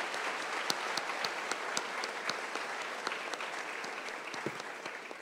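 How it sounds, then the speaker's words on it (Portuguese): Audience applause at a literary festival honouring Machado de Assis, a steady roar of many hands with distinct sharp individual claps standing out, continuous throughout. "Também quero pedir uma salva de palmas para essa moça"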